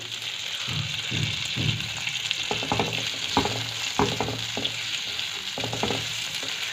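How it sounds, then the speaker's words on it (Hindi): Onions frying lightly in hot oil in a pan, a continuous soft sizzle with intermittent stirring scrapes and clatters throughout, close and steady. "बस हल्का सा इसको फ्राई करेंगे, ज़्यादा नहीं"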